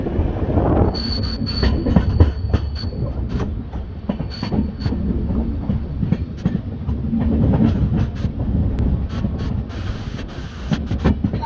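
An express train rolls slowly into Tiruppur station, wheels clacking and squealing on the rails, with a steady rumble close by and no voices.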